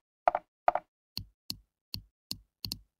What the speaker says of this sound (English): It also includes mouse sounds.